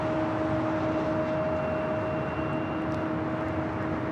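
Heavy jet airliner, a Cathay Pacific 777-300ER arriving on runway 24 left at LAX, producing a steady loud broadband roar with sustained engine tones throughout.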